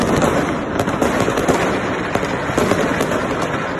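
Fireworks set off in China for Chinese New Year crackle and pop loudly and continuously, a dense, unbroken barrage of bangs with no pauses.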